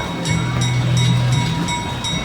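A small old ex-Navy center-cab locomotive works on an excursion railroad, a loud low engine drone swelling and easing close by, with faint rhythmic clatter over the top.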